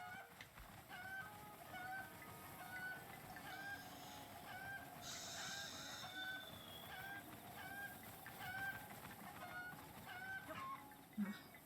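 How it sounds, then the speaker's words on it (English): Chickens cluck repeatedly in the video game Zelda: Breath of the Wild, short bright calls recurring at a steady pace over a constant outdoor ambience, with one louder burst of noise partway through. "why did we just spend a whole bunch of time running around chasing chickens"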